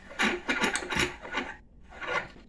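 A bench vise is screwed in against a differential cup, giving a series of rhythmic rasping, grinding turns of the screw, close and moderately loud, followed by a short pause and one more rasping turn.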